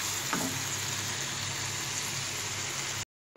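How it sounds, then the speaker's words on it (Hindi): Goat liver frying on a hot tawa with onion and garlic, a steady, dense sizzle that holds evenly and then cuts off abruptly near the end. "प्याज और लहसुन में हम इसको अच्छी तरह भूनते जाएंगे।"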